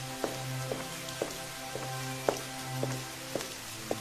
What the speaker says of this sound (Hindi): बाहर इतनी बढ़िया बारिश हो रही है